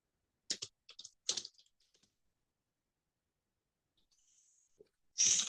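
Brief bursts of light clicking on a computer keyboard, a few short runs of typed keystrokes near the microphone in a quiet room, then a pause and a final soft burst of keys.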